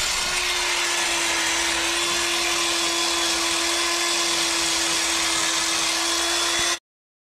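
Electric drill with an iron body stripping paint from a motorized bicycle frame, a steady high whining grind held continuously for about seven seconds before cutting off abruptly, close and loud with no talking.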